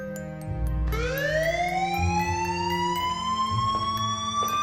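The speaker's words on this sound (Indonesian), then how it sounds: "Tak lama kemudian terdengar alarm rumah berbunyi" A loud electronic house alarm wails, its pitch sweeping upward and then holding in a steady, piercing tone.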